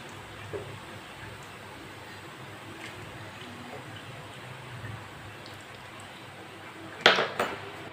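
Fried dough kebabs lifted from hot oil, a soft sizzling crackle running underneath, then a brief sharp metallic clatter near the end as they land in a strainer.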